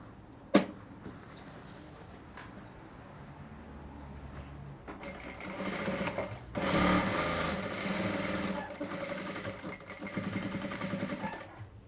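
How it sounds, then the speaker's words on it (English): A sewing machine stitching fabric for a reversible bubu jumpsuit starts after a quiet moment and a sharp click, then hums and chatters steadily up close. "and then you continue stitching."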